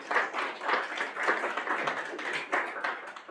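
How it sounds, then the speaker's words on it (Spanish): Studio or auditorium audience applauds steadily to welcome a guest, a dense, continuous wash of clapping with slight swells throughout. "Con el aplauso de ustedes, por favor, le recibimos."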